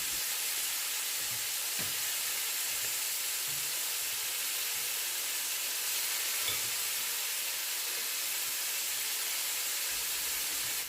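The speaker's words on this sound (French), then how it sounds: "Donc là, je rajoute la viande. Voilà, je les fais revenir dans l'huile." Meat pieces browning in hot oil in a pot for a Senegalese tiebou yapp niébé, a steady broad sizzle and hiss running throughout with a few faint low knocks from stirring.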